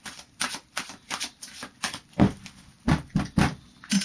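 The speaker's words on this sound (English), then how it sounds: "I've done a pre-shuffle with the Angel Tarot, so I'll just do a final shuffle." A deck of Angel Tarot cards is shuffled by hand in a rapid run of crisp riffling and slapping bursts, close and clear with no talking.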